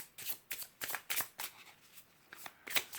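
A deck of oracle cards is shuffled for a reading, a quick run of close, crisp riffling bursts, about a dozen sharp flutters in fast, uneven rhythm.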